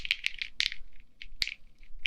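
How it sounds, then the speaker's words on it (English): Metal keys jingle close by in short bright clusters, several quick rattling shakes spread over about two seconds with brief quiet gaps between them. "maybe it's kind of like the sound of keys"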